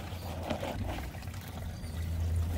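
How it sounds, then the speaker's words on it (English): Water running through a drain pipe tied into a main sewer line, a soft continuous trickling flow heard close and fairly faint, with a low steady rumble beneath. "And we got water running"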